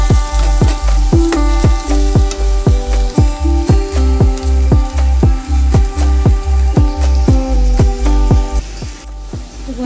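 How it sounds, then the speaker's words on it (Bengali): Ginger garlic paste being sautéed in a pan, with steady sizzling and rhythmic scraping stirs of a spatula repeating about twice a second, close and loud, tonal clinks from the pan ringing through. "যতক্ষণ না আদা রসুনের কাঁচা গন্ধটা চলে যাচ্ছে ততক্ষণ একটু কষিয়ে নেব ভালো করে।"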